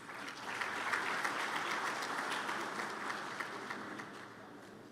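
Colleagues at an academic science congress clap to welcome a deputy vice-chancellor for research. A dense, steady wash of applause from many hands fills the full five seconds at an even level, with no voices.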